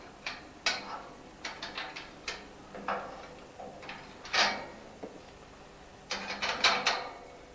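Ratchet clicks in short bursts as bolts are tightened on a steering column bracket during a Robin Hood kit car build, close and fairly quiet, with scattered metallic knocks and no talking.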